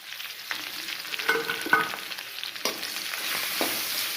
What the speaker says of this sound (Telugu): గుత్తి వంకాయ ఫ్రై అండి